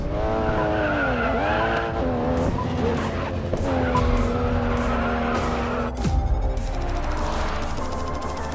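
Race car in Racing Master Mobile on an Alpine foothills track: a high revving engine whine rising and falling through gear changes under continuous tire squeal and skidding, loud and steady, with no voice.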